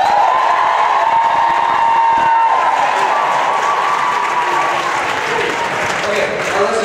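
A large audience at a Christmas choir concert bursts into sustained applause and cheering, a dense, loud wash of clapping with shouts and whoops on top, filling the hall throughout and easing slightly toward the end.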